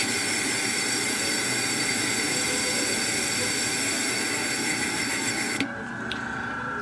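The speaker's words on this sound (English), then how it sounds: "Blow off the rest of this ink in here." An airbrush blows out leftover ink in a steady, loud hiss of compressed air for several seconds, then cuts off sharply to a quieter residual hiss.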